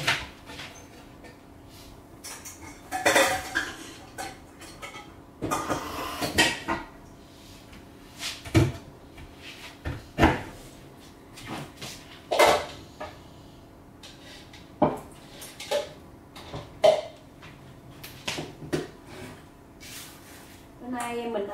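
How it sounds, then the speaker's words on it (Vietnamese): A cooking pot is pulled out of a kitchen cupboard and handled, with scattered clatters, knocks and scrapes of cookware and cupboard doors amid intermittent activity. "Bây giờ mình lấy cái nồi ra để mình nấu nước dừa."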